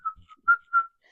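A person whistles a short tune alone, several clear bright notes with brief pauses between them, close and fairly loud in an otherwise quiet space.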